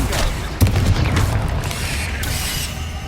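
A Confringo fire spell from the Hogwarts Legacy video game detonates in a cavern, opening with a loud booming blast and continuing as a sustained low rumble with crackling debris. A voice speaks briefly over it.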